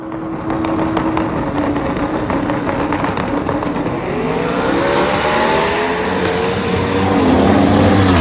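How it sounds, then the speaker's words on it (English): Ray Morton's Maximus full-size pickup truck, number 597, roaring down a drag strip at 242 mph at the World Cup Finals, a loud sustained engine howl with rising pitch that swells louder toward the end. "that was daggone Ray Morton in his Maximus full-size pickup truck, 597, 242 mile an hour"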